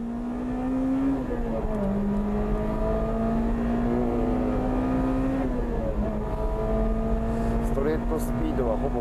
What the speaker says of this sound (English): Kataoka in the Integra R has caught up with Motoyama in the Megane.